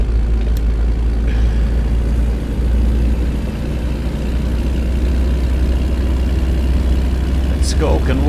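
A Kenworth W900 truck engine idles in American Truck Simulator, a steady low rumble running the whole time beneath a voice, with a brief higher chirp near the end.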